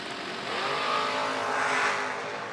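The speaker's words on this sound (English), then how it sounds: "Oh, boy, we got us a drag race" Drag racing cars including a Chevelle roar past on a strip, a loud sustained engine wash swelling and holding for a couple of seconds, no talk over it.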